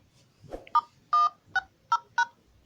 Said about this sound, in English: go on your dial pad and then you dial this code